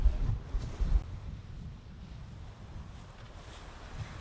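Wind buffeting the microphone on a sailboat crossing from Tenerife to La Gomera, a steady low rumble with gusty bursts in the first second and water noise beneath, no voices.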